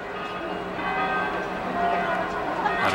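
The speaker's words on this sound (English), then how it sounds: "And the bells of the city pealing" Church bells of Giotto's Campanile in Florence peal on a Saturday evening, ringing tones sustained and overlapping across the whole stretch at moderate distance, with faint city ambience beneath.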